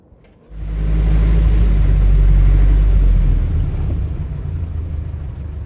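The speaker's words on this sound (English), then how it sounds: "got the fuel pump hooked back up, and it does seem to be running a little bit richer" A Ford Model A engine with a Holley 94 carburetor starts up and runs with a loud, steady low rumble close by that eases slightly toward the end, with no talk.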